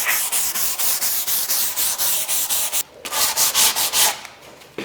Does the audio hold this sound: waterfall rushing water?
no